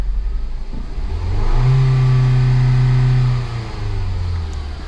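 Engine of a 2008 Ford Focus with a misfire being worked on, heard alone as it idles, revs up to a sustained steady hum for a couple of seconds, then drops back to idle.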